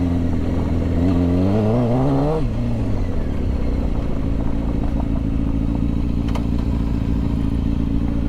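A motorcycle engine idling steadily with a light mechanical ticking and clatter running through it, after a short rev that rises and falls.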